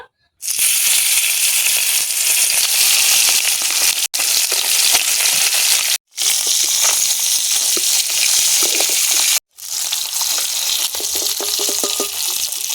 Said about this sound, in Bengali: তেল গরম হয়ে গেছে, একে একে কই মাছগুলো দিয়ে দেব।